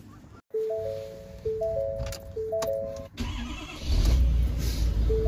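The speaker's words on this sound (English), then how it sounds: "We'll fire up the truck, drive back and forth." A pickup truck engine cranks with a repeated stepped starter whir, then catches and settles into a low, rumbling idle, close by and with no talking.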